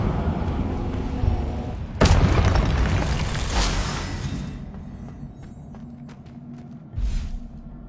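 An Incendio fire spell goes off in a Harry Potter video game as a sudden loud blast with a rushing, crackling tail. A smaller thump follows later over the game's steady background ambience.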